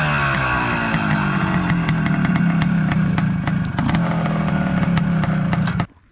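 A dual sport motorcycle engine runs loud and close, holding a steady buzzing rev with rattling mechanical clatter throughout before cutting off abruptly at the end.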